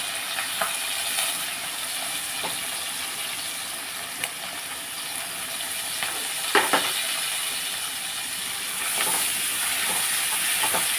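Onions with green chillies sizzle in a hot pan, a steady close hiss with occasional brief crackles and stirring scrapes, continuous throughout with no talk.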